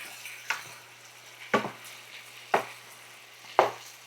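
Vegetables cooking in olive oil in a pan on an induction range, with a soft steady sizzle beneath four evenly spaced, sharp clinks and scrapes of a utensil stirring the pan, close and fairly quiet.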